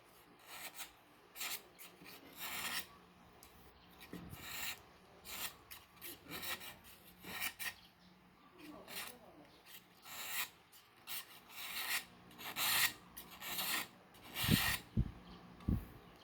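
Repeated rasping scrapes in short bursts, a blade drawn along a palm stalk again and again at close range to make thin strips, with brief pauses between strokes.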